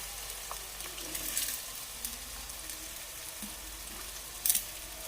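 Tomatoes sizzle steadily in hot oil for a Punjabi dal tadka, a soft continuous hiss with scattered crackles and a sharper pop near the end. No voices.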